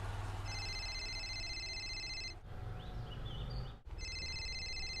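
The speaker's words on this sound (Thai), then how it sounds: "โทรศัพท์ดังวะวะ" A telephone rings in repeated bursts with short pauses between them, set against a steady low background hum and faint ambient noise.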